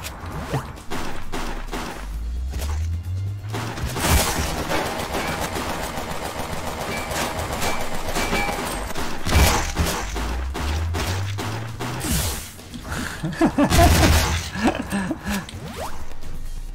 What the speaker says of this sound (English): This weapon is terrible. Look at the time between shots is huge.